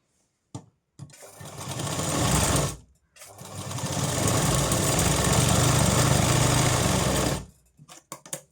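A sewing machine stitches down a folded strip on a katori blouse, running loud and close in two continuous bursts, a short one followed by a longer one, with light handling taps before and after.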